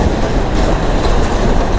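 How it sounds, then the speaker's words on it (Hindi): A large truck trailer roars past at night on a busy road, a loud, dense, continuous rumble filling the moment. "इतना बड़ा बड़ा ट्रेलर जा रहा है।"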